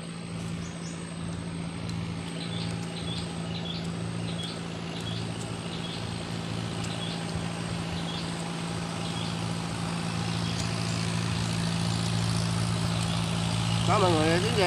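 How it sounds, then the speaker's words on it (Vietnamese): A motorboat passes on a river in Vietnam, its low engine drone steady and gradually growing louder, with a voice heard over it. "Có mọi người tiếng ghe không? Ghe chạy ngang mọi người đó."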